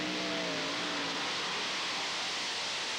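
A tractor-pulling machine powered by four Chevrolet engines at the 1995 European Championship in Hörby, a loud continuous roaring drone that rises slightly in pitch, heard close and alone without talk.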